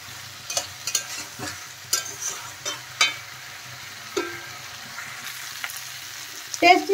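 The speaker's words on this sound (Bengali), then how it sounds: "দেখেন নেড়ে চেড়ে ফুলকপির সাথে মশলাটা আমি মিশিয়ে দিলাম।" Fried cauliflower being stirred with spices in a pan: intermittent scraping and clinking spoon strokes against the metal over a quiet, steady sizzle, close by.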